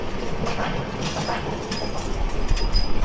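A Bangladeshi express train rushes past a stationary train, making a loud, dense roar of wheels and rattling carriages with rhythmic clatter and faint squeals, building toward the end, with no talking.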